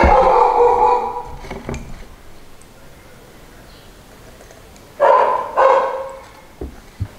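A dog barks in short loud bursts nearby, a cluster at the start, then quiet, then two more sharp barks followed by a few faint yips.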